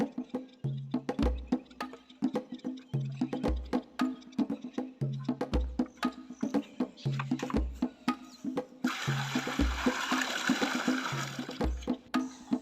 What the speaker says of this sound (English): So we use that container that is made from a jerry can, or that is cut from a jerry can, to fetch water from this well.